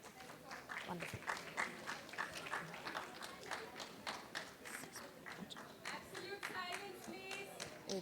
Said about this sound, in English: They're only applauding